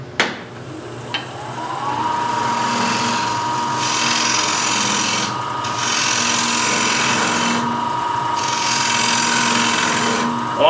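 A wood lathe spins a wooden platter while a tool flattens its face, a loud continuous scraping hum with a steady tonal whine, broken by brief gaps where the cut pauses.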